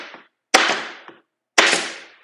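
A nail gun fires twice into wood, each a sharp, loud crack followed by a short decaying ring. The shots come about a second apart, with a faint click before the first and no talk.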